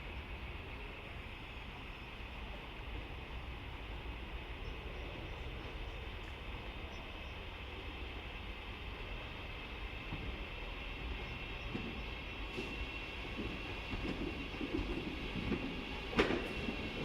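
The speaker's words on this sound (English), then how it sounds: "we have a train arriving into the dock platform" At a dock platform, a train creeps in slowly, giving a faint, steady rumble with a distant hum and a few light clanks near the end.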